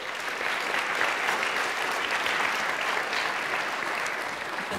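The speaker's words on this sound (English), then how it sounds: "So I want to take a sec for a round of applause for Darren" An audience at ReasonConf 2018, a programming conference, breaks into warm, even applause. Many hands clap at once in a dense, sustained wash for several seconds before it starts to thin toward the end.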